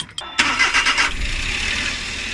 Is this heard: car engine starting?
yes